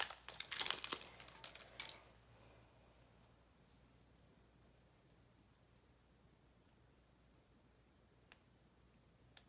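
Crinkly plastic sticker packaging being pried open, a short burst of sharp crackling and rustling at the start that fades into near silence with a faint tick later.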